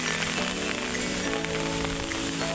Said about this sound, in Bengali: প্রচুর বৃষ্টি হচ্ছে ও কি দারুণ প্রচুর বৃষ্টি হচ্ছে